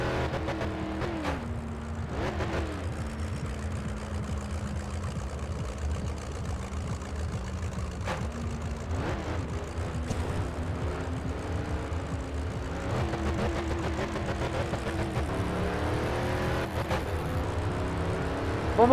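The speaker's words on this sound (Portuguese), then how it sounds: "Acho muito louco as tremidas que esse carro dá, ó, no motor seis cilindros" A six-cylinder Dodge Charger R/T engine in My Summer Car growls steadily, rising and falling through repeated revs and gear changes over a long stretch, close and continuous.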